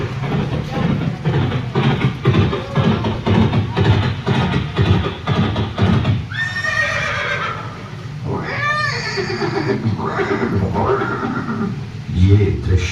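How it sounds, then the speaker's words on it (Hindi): Horse neighing from Chetak, Maharana Pratap's famed loyal warhorse, with two rising-and-falling whinnies in the latter half over a steady bed of narration and music. "ये दृश्य महाराणा प्रताप और सुविख्यात स्वामी भक्त घोड़े चेतक के अंतिम मिलन का है।"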